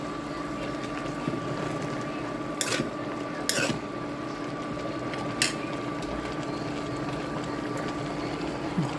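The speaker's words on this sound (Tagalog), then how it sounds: "Haluin na muna natin." A spoon stirring pakbet in a cooking pot: a few sparse scrapes and knocks against the pot over a low, steady hum, with no talk.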